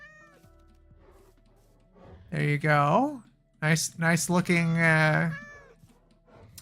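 Two drawn-out, rising-and-falling meows from a cat in the Minecraft video game sound clearly and fairly loud, separated by a short pause, and someone speaks briefly before them.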